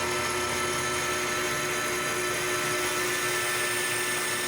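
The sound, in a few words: lathe facing a metal disc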